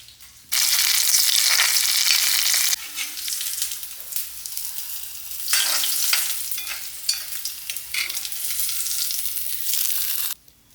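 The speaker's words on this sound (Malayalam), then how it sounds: "ഇനി ഇതാ നമുക്ക് വെളിച്ചെണ്ണയിൽ ചെറിയ ഉള്ളി അത് വഴറ്റിടണം" Small onions sauté in hot coconut oil with a loud, close sizzle that swells and dips as they are stirred, with brief quieter gaps between bursts.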